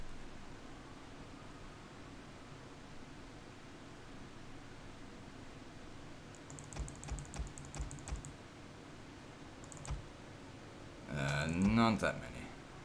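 Keyboard typing during a Total War: Attila online battle livestream, a couple of short bursts of clicking keys over a steady fan-like noise floor, followed by a brief voice.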